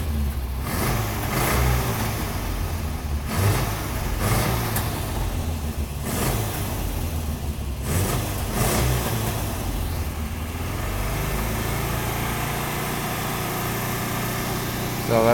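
A 1979 Subaru 4WD wagon engine, warmed up after several minutes of running, revs steadily up to around 3,500 RPM, a loud continuous drone with slight rises and dips throughout.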